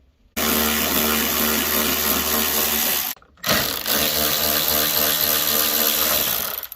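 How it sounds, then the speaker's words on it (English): Power screwdriver whirring steadily as it undoes T20 screws on the rear tail light of a Ford Fiesta Mk7, running continuously with one brief pause before starting again, close and loud. "now we can actually undo these T20s, one there and one just down there"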